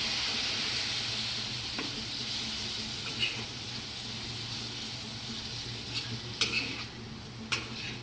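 Low, steady sizzle and bubbling of dried Bombay duck chutney with added water in an iron pan, with occasional scraping and clinking of a spoon stirring, close and fairly quiet.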